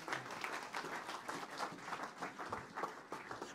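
A church congregation applauding, with steady rhythmic clapping that runs the whole clip at a moderate, even level and a faint crowd murmur underneath.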